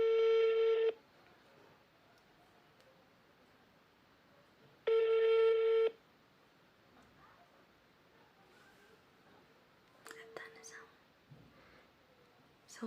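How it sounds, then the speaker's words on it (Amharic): A phone call being placed: a steady ring-back tone sounds twice in long bursts about four seconds apart, followed by a shorter tone and rustling, with faint low murmuring in between. "እስቲ ደውለን እናጣራና ምን እንደምትለን ስለ ሄርሜላ"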